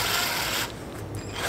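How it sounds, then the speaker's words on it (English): Cordless drill run briefly on its trigger to tighten the chuck around a tungsten electrode, a close, loud whir that cuts off abruptly, then a quieter mechanical rattle and a brief restart. "So we're just gonna slide it in the drill. I like to use the trigger to tighten it up."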